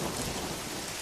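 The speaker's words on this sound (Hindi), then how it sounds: "कितनी सुंदर बारिश है।" Cartoon rainstorm with heavy rain and rolling thunder, a dense, loud, continuous wash of sound filling the whole short moment with no talking.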